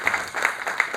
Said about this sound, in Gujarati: એક તાળી તો અવશ્ય થવી જોઈએ